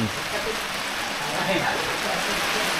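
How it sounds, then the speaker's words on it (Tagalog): Steady, dense rain hisses and patters continuously, a broad wash of noise with no pauses. "Ayun na naman ang ulan."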